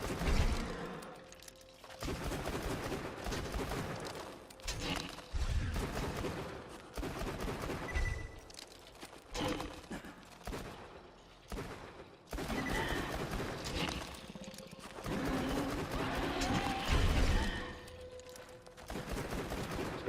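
Gunfire from a gun in the video game Borderlands 2, bursts of rapid shots and explosions close up and fairly loud, coming in uneven volleys over roughly twenty seconds.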